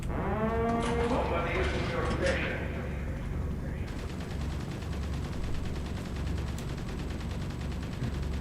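Machine gun fire from a Kirov airship in the Red Alert 2 Apocalypse Rising mod chatters as a steady rapid stream beneath a droning wash of game noise, fairly even in loudness throughout.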